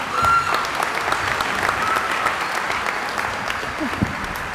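At a Lane commencement ceremony, an audience gives a sustained round of applause for a graduate, a continuous even wash of clapping from many hands with faint voices beneath.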